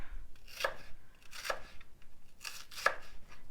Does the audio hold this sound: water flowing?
no